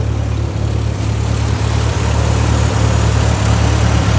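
A 1955 Ford 660 tractor engine idles steadily after a cold start, a loud, close, low rumble with regular periodic thumps of the firing pulses and no talk over it.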